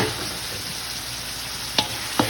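Chili and onion sauté with garlic and tomato in a hot pan, a constant close sizzle with a couple of sharp stirring scrapes near the end.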